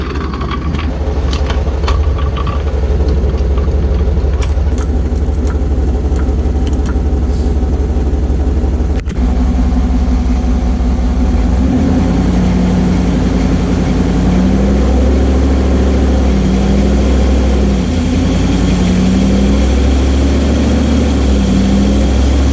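A Jeep engine runs loud and close while the vehicle is jacked up under the rear differential and put through a couple of gears, its rumble shifting pitch partway through, with no speech heard.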